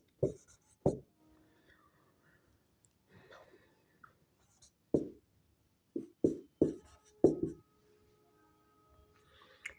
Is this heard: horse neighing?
no